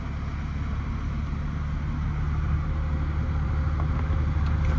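Idling 2002 Porsche 911 Turbo X50 engine with a couple of gentle revs, a steady low rumble that swells slightly, close by and unbroken with no talk.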